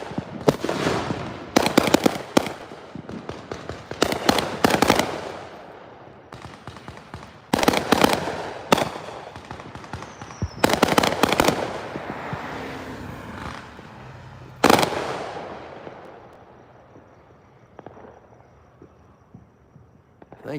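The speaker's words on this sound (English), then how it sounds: "these mortar shells they're shooting off" Fourth of July fireworks mortar shells launched by neighbors crackle and boom in repeated loud volleys of rapid bursts separated by quieter gaps, heard from a backyard distance.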